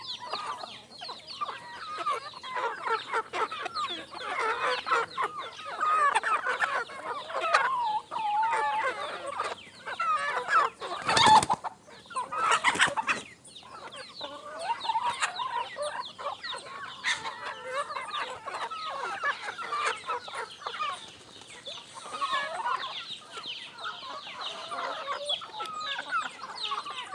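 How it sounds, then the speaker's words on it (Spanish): Free-range criollo hens crowd close around a person on a farm, clucking continuously in overlapping chatter, with a brief loud burst of handling noise partway through. "Las gallinas se pusieron de acuerdo para darse la vuelta de alrededor de mí."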